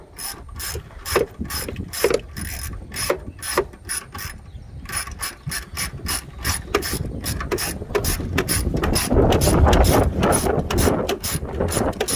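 A ratchet wrench tightens a bolt on the battery bracket under the air box of a Lexus ES330, its rapid clicking loud and close in repeated bursts.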